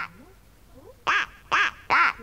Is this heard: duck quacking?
yes